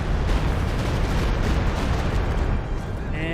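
A Stuka zu Fuss rocket artillery barrage in Company of Heroes 2 rumbles as a dense, continuous roar of overlapping explosions, loud and sustained throughout with no pauses.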